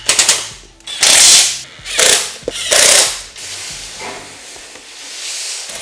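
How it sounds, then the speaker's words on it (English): Power tool tightening bolts on a Holman partition inside a Ford Transit van, three loud bursts of whirring and ratcheting around one to three seconds in, then quieter mechanical handling noise. "Then we'll come through and tighten all these up."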